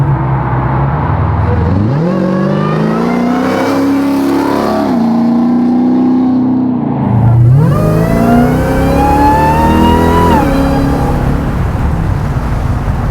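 A 900-horsepower, Hellcat-powered 1970 Plymouth Superbird restomod accelerates hard, its engine note climbing through the revs, dropping at a gear change and climbing again, loud and close from the cabin without any speech.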